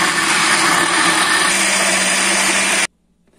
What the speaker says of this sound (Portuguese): o liquidificador já está bem velhinho